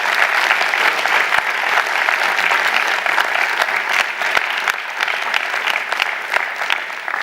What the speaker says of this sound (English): Give your parents a big round of applause for surviving